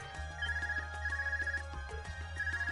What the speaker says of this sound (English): Is that your Arcus ringing?